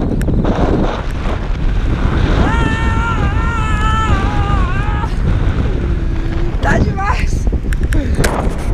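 Strong wind buffets the microphone continuously beside a bay with choppy water, a heavy roaring rumble throughout while someone rides three-wheel inline skates; a voice talks briefly in the middle.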